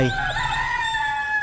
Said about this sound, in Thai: จะคอยฟังเสียงไก่ขันอย่างตั้งใจ